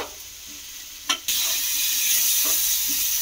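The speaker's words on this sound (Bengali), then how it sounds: "এবারে এটাকে খুব ভালো করে একটু ভেজে ভেজে নেব" Tomatoes fry in a pan and are stirred, a dense steady sizzle that suddenly swells loud after a brief clatter, with a couple of soft scraping stirs continuing close by.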